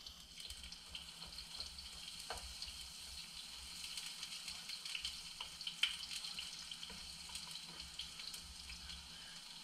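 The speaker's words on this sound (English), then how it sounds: "I'm going to turn that oil down some so it can stop popping. It is popping." Hot oil pops and sizzles in a pan while chicken fries for smothered chicken, a faint steady crackle with scattered small pops and one brief sharper snap, no voices.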